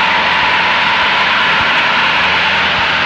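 A light aircraft's engine drones loud and unbroken from inside the cabin during landing practice, a steady roar with a broad, rushing tone.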